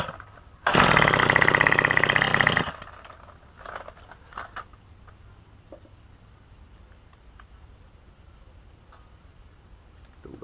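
A Craftsman string trimmer engine bursts into a loud, buzzing rev for about two seconds during carburetor tuning, then abruptly dies, leaving faint clicks and handling noises in near-silence.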